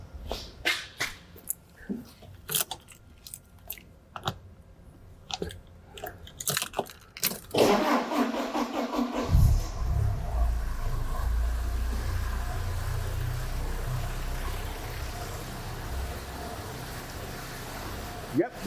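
After several seconds of sharp clicks and handling noises, a car engine starts with a burst and settles into a steady low idle that runs to the end, moderately close.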